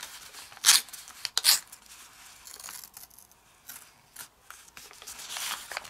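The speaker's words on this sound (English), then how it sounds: "now we're going to tear all the way down. So make a little tear right there" A sheet of origami paper tears along a crease, with two short sharp rips early on and a longer, softer tearing rasp toward the end, close by and with no talking.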